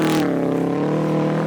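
A Subaru rally car at Rallye Perce Neige pulls hard with a sustained, rising engine drone, loud and close, its steady harmonic roar filling the whole short stretch without any talking.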